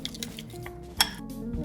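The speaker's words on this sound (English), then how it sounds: "And then I'm going to stir that all up." A spoon stirs stuffed mushroom filling seasoned with garlic powder and Italian seasoning in a bowl, making soft scraping and light clinks, with one sharper clink near the middle.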